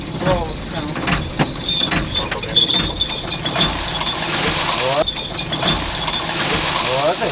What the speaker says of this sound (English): The car wash.